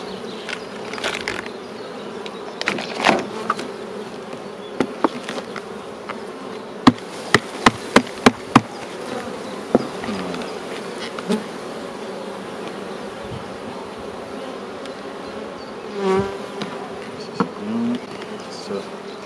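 Honey bees hum steadily and densely around a beehive in a spring apiary, a close continuous drone broken by scattered sharp knocks and clicks from handling the hive.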